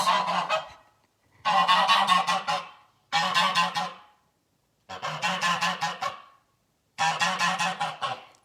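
Geese at a farm honk in loud, close bursts of rapid repeated calls, five clustered volleys separated by short silences.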